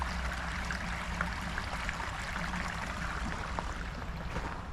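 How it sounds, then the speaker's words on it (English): Small waterfalls spill along a garden stream in winter, a steady, even rush and splash of water heard close by at a soft level, continuous with no talking. "Love just to come down here and hear the noise of those waterfalls."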